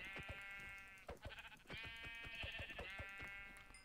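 Sheep in the video game Minecraft bleat several times in quick succession, clear and close with short pauses between calls, no talk.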